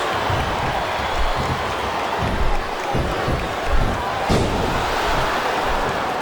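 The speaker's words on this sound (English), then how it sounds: "This capacity crowd is making their opinions known tonight." A capacity arena crowd in the WWE SmackDown vs. Raw 2007 wrestling game roars steadily throughout, a dense wash of cheering with occasional thuds and swells rising above it.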